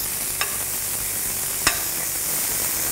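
Steady frying sizzle of soy chunks in butter fills the clip, a continuous crackling hiss with two brief sharp clicks, close and fairly loud, no voices.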